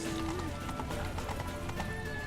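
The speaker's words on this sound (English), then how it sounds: "Come on, horsey. This is not breakneck speed." Galloping horse hooves in the video game Witcher 3, a quick regular clip-clop rhythm running steadily at low volume under a tonal music bed, with a voice speaking over it.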